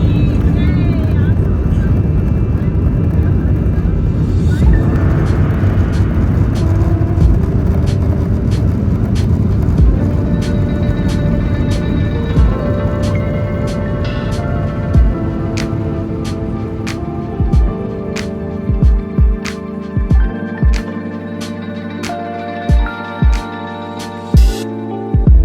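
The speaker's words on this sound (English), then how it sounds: "we were spooling up to begin our flight across to" Airliner jet engines on an AirBlue flight out of Karachi, heard from inside the cabin, swell into a broad steady roar that holds for a long stretch, then drop back as scattered clunks and bumps take over.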